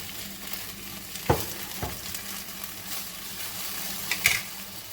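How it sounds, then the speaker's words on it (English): Broccoli hits a hot pan over medium heat with a steady low frying hiss, a few sharp clatters as it lands and is moved around, in a quiet kitchen. "we're going to add our broccoli to this."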